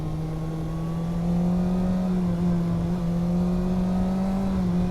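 A motorcycle engine revs as the throttle opens during a night ride, a sustained droning engine tone rising steadily in pitch with no talk.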